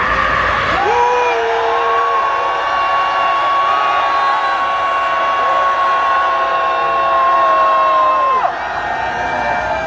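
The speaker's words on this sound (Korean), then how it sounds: "함성 외치겠습니다" Crowd at a rally outside the presidential residence in Hannam-dong letting out a long, sustained shout of cheering, loud and continuous with voices held together before it cuts off.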